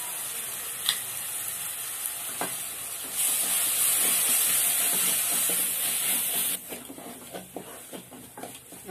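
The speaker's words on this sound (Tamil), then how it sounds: "நல்லா வதக்கிக்கோங்க." Chili powder, coriander powder and spices fry in a pan for crab curry, giving a soft crackle that swells into a loud steady sizzle for a few seconds, then settles back to light popping and stirring.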